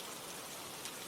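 Rain falls steadily as a soft, even hiss of drops across a surface, faint and unbroken throughout, with no voices.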